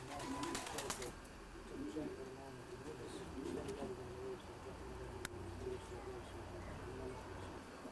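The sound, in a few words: racing pigeons cooing in a loft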